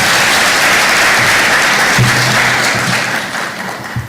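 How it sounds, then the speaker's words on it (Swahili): Sustained applause from a workshop audience in a hall, dense and even clapping that carries steadily before thinning and fading toward the end, with faint voices mixed in. "Makofi tena."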